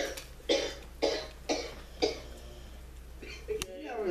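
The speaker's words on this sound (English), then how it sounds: "Coughing." Four sharp coughs from one person repeat at roughly half-second intervals, close and moderately loud over a steady low hum, followed by a brief rustle near the end.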